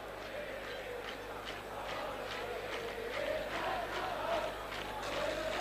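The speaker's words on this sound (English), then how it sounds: "Judging from the noise of the crowd, you'd think this match was taking place at Stamford Bridge" A football crowd at a cup final in Athens roars in a steady distant wash of chanting and shouting, with rhythmic surges of voices and no commentary on top.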